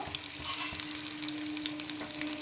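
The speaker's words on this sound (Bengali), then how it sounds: "এবার আমি এইগুলোকে ভেজে নেব" Chickpeas frying in hot oil in a pan give a steady, close sizzle dotted with small pops and crackles, with no voice over it.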